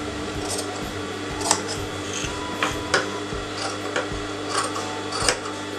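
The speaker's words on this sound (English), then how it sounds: "Now cut the fabric inside this." Scissors snipping fabric around the inside of a neckline canvas, a handful of short, crisp cuts spaced irregularly over a soft rustle of cloth.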